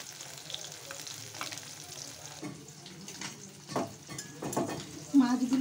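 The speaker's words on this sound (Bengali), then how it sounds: "মাছগুলো ভেজে নিই" Bata fish fry in hot oil in a kadai. A continuous sizzle crackles under occasional scraping and stirring clatter from a utensil, and the bubbling swells louder toward the end.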